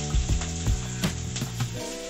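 Onions go into hot oil with crackled cumin in a kadhai, giving a close, steady sizzle with a few soft stirring knocks and scrapes near the start, then a settling hiss with no talking.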